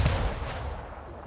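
Ship cannons firing in the strategy game Anno 1800 during a sea battle with pirates, a single loud, booming blast that fades into a rumbling tail with no talking over it.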